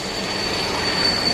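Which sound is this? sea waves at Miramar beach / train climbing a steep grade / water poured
train climbing a steep grade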